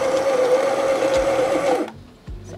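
A Baratza Encore ESP coffee grinder runs with a steady, loud whirring motor hum, then cuts off abruptly near the end, leaving quiet with a faint thump.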